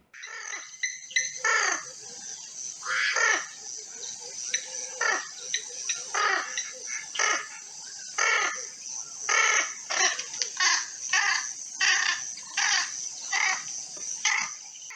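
Repeated harsh, squawking calls of a squacco heron, a rare summer visitor on Clee Hill in Shropshire, come in a steady series of short bursts, fairly close and loud, with no talking.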